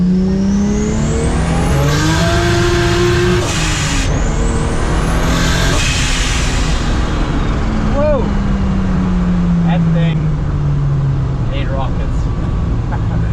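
A BMW E30 accelerates hard through its gears, engine note climbing steadily then dropping at each shift before rising again, loud and close from inside the car, with brief chirps and whooshes over the continuous drone.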